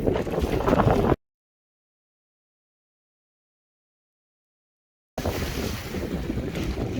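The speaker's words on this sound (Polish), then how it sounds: "Uwaga, mamy silny wiatr." Strong wind gusting over a sailing yacht during a capsize safety test, loud roaring buffeting on the microphone with water wash, broken by a few seconds of total silence in the middle.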